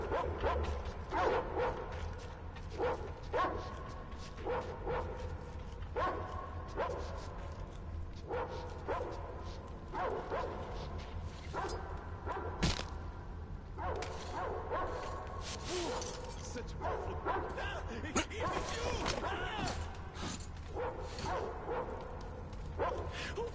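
Dogs bark and yip from kennels in Metro Exodus, repeated sharp barks and whimpers scattered at middle distance, with voices talking at times.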